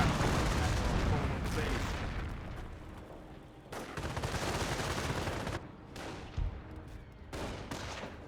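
Rapid gunfire and bursts of battle noise from a Company of Heroes 1 match, German grenadiers against US rifle squads with a Panther tank nearby, sounding dense and continuous with sharp cracks and dull booms layered throughout.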